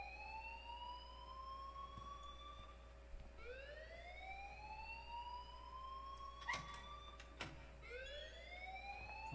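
A wailing alarm sounds in the video game Life is Strange, its tones rising in repeated sweeps over a low steady hum, fairly faint, with no speech.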